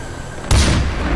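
A single heavy gunshot blast from Far Cry 4 gameplay, with a sharp onset and a booming low-end body, then a long rumbling decay that fills the rest of the moment.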